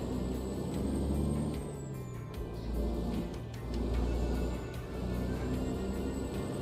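Kenworth truck engine in a driving game, a steady low rumble that swells and eases as the throttle changes, with faint high tones from the game in the background.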